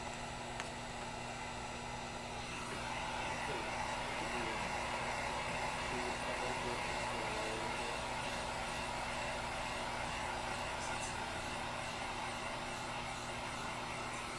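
A hair dryer blows steadily on a drying craft piece, a continuous close whooshing hum that holds without a break, alone and fairly quiet.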